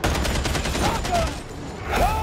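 Bolter pistol gunfire in Warhammer 40K: Darktide, a dense rapid burst of shots that fades briefly and then returns, busy and loud with game effects in the mix.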